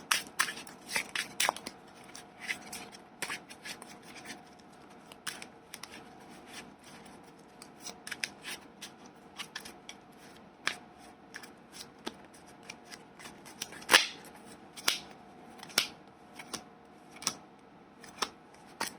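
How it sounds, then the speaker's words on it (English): A Yu-Gi-Oh trading card deck being shuffled by hand, with repeated crisp riffling and snapping card sounds in irregular bursts, close and fairly quiet. "So I'll shuffle again and then see what we get for."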